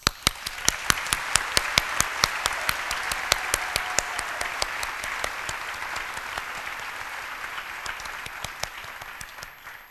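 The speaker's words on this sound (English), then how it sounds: "I just want to take a moment to give a big shout out and applause." Audience applause at a medical school ceremony of commitment, many people clapping in a dense, steady wash with sharp individual claps standing out near the front, loud and sustained before slowly thinning.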